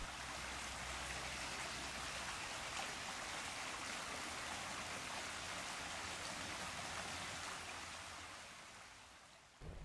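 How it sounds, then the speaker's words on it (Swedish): Sularpsbäcken brook flowing through Södra Sandby, a steady broadband rush of running water that stays even and continuous throughout, with no voices, fading slightly near the end. "för att prata om bäcken som går mitt i södra Sandby"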